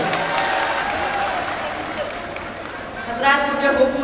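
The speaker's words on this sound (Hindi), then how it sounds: "एक बार जोरदार तालियों के साथ उनको आवाज दीजिए" An outdoor mela crowd at Nauchandi Mela in Meerut claps for a singer, a broad wash of applause with voices mixed in and a few louder bursts toward the end.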